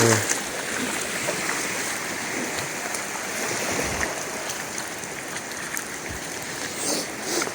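Steady broadband rush of rising floodwater at a campground during Hurricane Helene, continuous and fairly loud throughout, with a few faint knocks and splashes and no talking.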